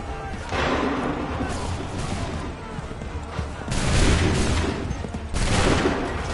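Musket volleys firing in Assassin's Creed III, dense crackling bursts of gunfire that swell in repeated loud waves, close and overlapping, with shouted commands between them.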